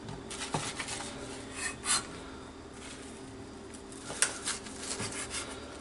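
A knife thinly slices kimbap ingredients on a board, making soft rasping strokes with a few sharper taps and light clinks. The sound is close and fairly quiet, with no talking.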